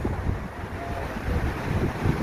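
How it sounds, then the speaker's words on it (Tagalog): Strong gusting wind at Alassio beach, Italy, buffets the microphone with low rumbling bursts, with a faint wash of surf in the background; no one speaks. "Malakas yung hangin"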